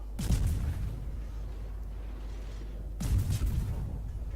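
Destroyer Daring's guns fire in the naval battle game World of Warships, two heavy booming salvos about three seconds apart with a rumbling low tail, loud and alone.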